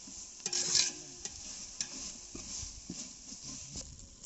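Ginger garlic paste frying in a pan, a quiet soft sizzle broken by a few sharp spoon scrapes and taps, close by and fairly faint.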